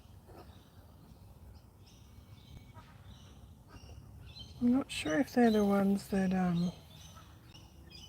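Loud, raspy cackling bird calls burst out in a quick series over faint background chirps, with a person speaking softly nearby.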